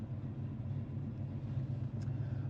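The engine of a 1970 Chevrolet Chevelle with a 4-speed idles just after starting, a steady low rumble heard from inside the car with no talk.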